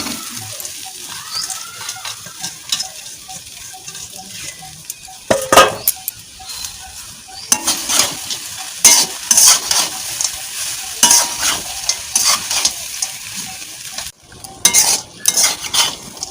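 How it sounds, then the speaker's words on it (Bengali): Soaked, drained flattened rice (chire) and fried peanuts stirred in a pan over heat, a spatula scraping and clinking against the metal in irregular strokes over a soft sizzle, close and clear, with no talking. "এবার আমি আঁচটাকে কমিয়ে দিয়ে নাড়ছি"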